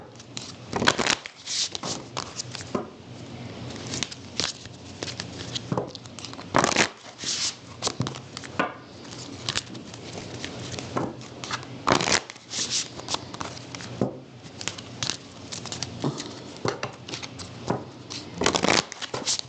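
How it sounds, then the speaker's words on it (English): Tarot cards are shuffled repeatedly up close, a rapid riffling and shuffling texture that runs continuously with brief pauses between rounds. "I'm going to give these a few shuffles."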